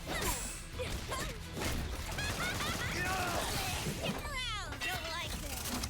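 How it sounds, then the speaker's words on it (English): Rapid machine gun fire from the 2XKO fighting game during tournament play, dense bursts of impacts and whooshes layered under continuous excited commentary. "gonna go straight in with the machine gun"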